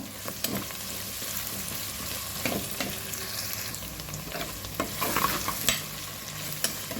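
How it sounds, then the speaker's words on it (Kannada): Onions and salt frying in a tempering for fish curry, a low continuous sizzle broken by repeated clinks and scrapes of a stirring spoon against the pan. "ಈರುಳ್ಳಿ ಹಾಕ್ಕೊಂಡಿದ್ದೇನೆ ನೋಡಿ, ಸ್ವಲ್ಪ ಕೆಂಪಾಗಲಿ."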